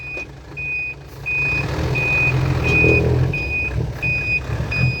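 A truck reverses at a pond excavation site, its backup alarm giving a regular series of sharp beeps over a loud, rumbling diesel engine.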